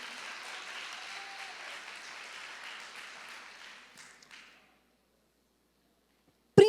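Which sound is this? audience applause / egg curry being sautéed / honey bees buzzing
audience applause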